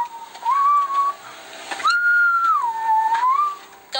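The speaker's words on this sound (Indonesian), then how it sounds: "Kamu sering bersiul di dalam rumah?" Someone whistles a slow tune close by indoors, two long sustained notes that slide gently up and down, clear against quiet surroundings.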